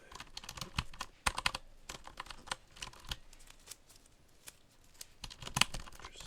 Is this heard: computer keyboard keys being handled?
yes